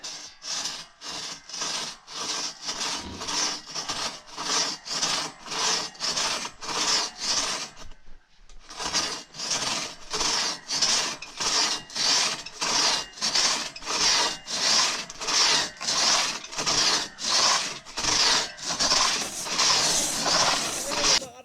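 A wooden log being cut with a hand saw outdoors, steady rhythmic back-and-forth rasping strokes close by, with a brief pause midway before the sawing resumes at a regular pace.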